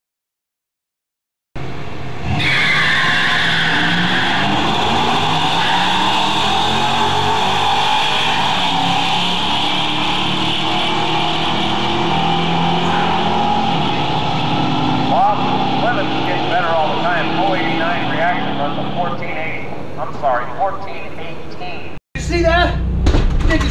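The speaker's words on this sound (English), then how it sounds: "this clip of Bob Wilson driving his Ford-powered 1937 Plymouth down the drag strip at Auto Club Dragway in Fontana" A Ford-powered 1937 Plymouth drag car launches and runs down the drag strip at Auto Club Dragway in Fontana, its loud, sustained engine roar filling nearly the whole stretch before a brief cut and a final burst.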